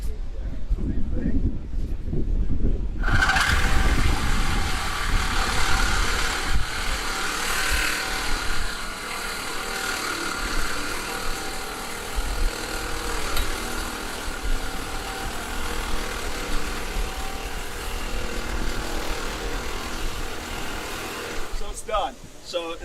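A reciprocating saw with a new blade grinds through a piece of rebar, a loud, continuous buzzing rasp that starts abruptly after brief talk and runs steadily before cutting off at the end.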